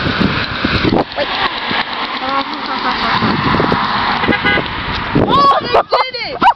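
A passing car honks its horn on a roadside as excited people shout and talk loudly over it, with engine and wind noise throughout.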